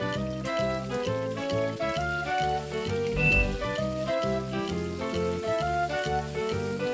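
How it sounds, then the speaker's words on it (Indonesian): Chicken pieces fry in hot oil with a steady, crackling sizzle under rhythmic background music. "Kemudian ini aku siapkan minyak. Kemudian ini aku akan goreng terlebih dulu ayamnya."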